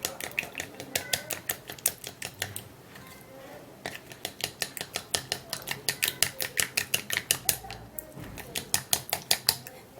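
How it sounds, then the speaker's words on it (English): A milk, aloe vera and baby oil mixture is stirred in a bowl, a utensil clinking against the sides in a fast, steady run of sharp taps close by for the whole stretch, with no talking over it. "I'm going to be mixing and stirring all this all up."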